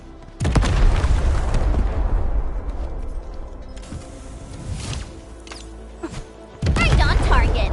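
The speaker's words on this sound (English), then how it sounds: "I give that explosion a 10 out of 10." An explosion in the video game Arknights Endfield: a loud, close boom bursts out, rumbles and fades, followed by quieter mechanical clanks before a second heavy blast hits near the end.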